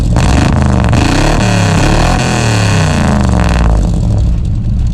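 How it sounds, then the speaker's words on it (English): A loud truck engine revs hard and steadily close by through its exhaust, which is fitted with a service bell, its deep roar rising and falling for several seconds before easing slightly at the end. "how loud is this truck?"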